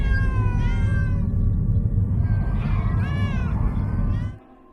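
Several cats meow in overlapping, drawn-out cries over a steady low rumble, with a few louder yowls rising above the rest before the sound abruptly stops.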